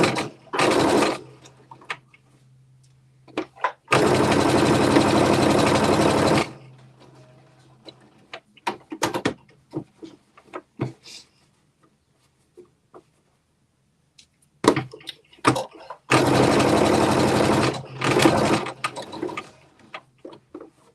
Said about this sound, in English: So now I'm going to do an edge stitch starting at the top, on the sides, at the bottom